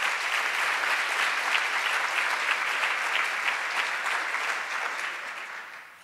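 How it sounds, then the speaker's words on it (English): A conference audience at a supportive housing summit applauds its sponsors, steady dense clapping from many hands filling the room for about six seconds before starting to taper off near the end. "Please join me in applauding our sponsors."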